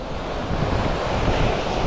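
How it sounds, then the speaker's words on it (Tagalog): Strong wind buffeting the microphone in a continuous rough rumble, with surf-like wash underneath, no one speaking, on the coast at Ternate, Cavite. "Lakas ng hangin din eh."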